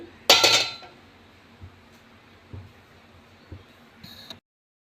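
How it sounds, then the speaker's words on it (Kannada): A frying pan set down on a gas stove while onion poha tempering is prepared, giving one loud metallic clatter followed by a few soft knocks and a faint clink near the end, close by with no talking. "ಬಾಣಲಿ ಇಟ್ಕೊಳ್ಳಿ"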